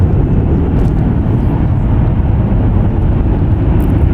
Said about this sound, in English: That was WestJet Flight 1509 going to Calgary